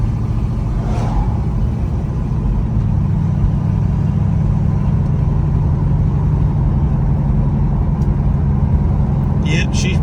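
Buick Skylark driving with both windows open, a steady low road rumble and wind roar filling the cabin throughout, with a voice talking over it.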